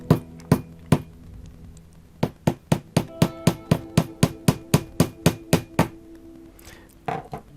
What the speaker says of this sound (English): hammering down the pin,